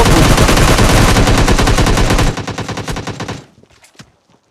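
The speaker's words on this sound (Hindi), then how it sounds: "ये मैं गोलियों की आवाज़ देता हूँ, और अब मैं चलाऊंगा गोली" Automatic gunfire from a player's weapon in the PUBG video game: loud, rapid bursts of shots fired close up for about two seconds, then lighter scattered shots that fade into a few faint distant pops.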